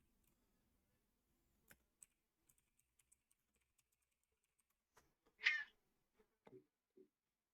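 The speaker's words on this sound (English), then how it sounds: "I thought that was a crow for a second. Like, what? It's the cat." A house cat gives a single loud, short meow up close against a quiet room, followed by a couple of softer, lower chirps, with scattered keyboard-like clicks and taps beforehand.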